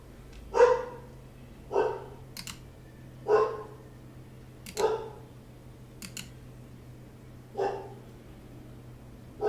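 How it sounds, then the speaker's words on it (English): A dog barks repeatedly at a steady pace, about one bark every second or so, fairly distant and muffled, with faint clicking in between. "Oh, puppers, I hear him barking."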